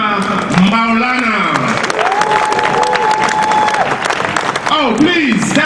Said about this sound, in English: let's give a worthy round of applause for Dr